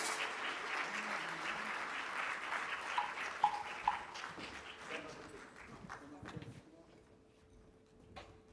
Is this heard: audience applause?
yes